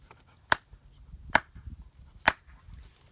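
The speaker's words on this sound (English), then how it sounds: "we clap 3 times, and then snap in the 10 directions" Three sharp, separate finger snaps or claps sound close up at even intervals during a Vishnu puja, with quiet room hush between them and no talk.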